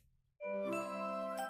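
A single mallet-struck vibraphone chord rings out clearly after a brief quiet moment, sustaining with a soft shimmer.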